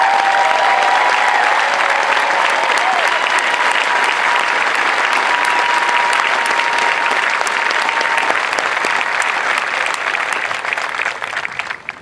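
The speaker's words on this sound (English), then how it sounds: "We owe you a round of applause as well." A large crowd at an Air Force basic military training graduation parade gives veterans sustained, loud applause, a steady dense roar of clapping that thins slightly near the end.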